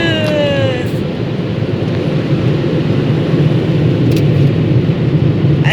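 Car wash drying blowers roar steadily against a car, a loud, constant broadband rush of air that continues without break, heard from inside the vehicle.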